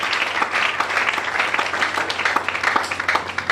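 A congregation applauding during a French-language church service: steady, dense clapping from many hands, continuous and fairly loud throughout.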